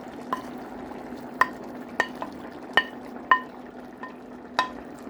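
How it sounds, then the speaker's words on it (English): Bell peppers are stirred into ground meat cooking in a pan, a quiet background sizzle broken by about eight sharp metallic clinks of a utensil against the pan at irregular intervals. "Let's add our bell peppers."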